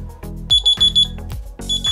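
Diggro N88 budget smartwatch emitting a shrill, repeated electronic alarm beep, several bursts in quick succession with short gaps, loud and close, over faint background noise.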